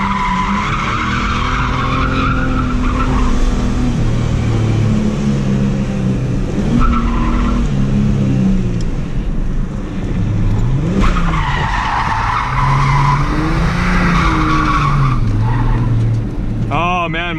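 Ford AU Falcon doing a burnout and drifting, tyres squealing loudly and continuously over a hard-revving engine, with pitch swells as the car slides, up close with no talk.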